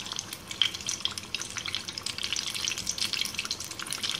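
Maruya banana fritters fry in bubbling butter in a pot, a continuous close crackling sizzle with dense popping and spattering throughout.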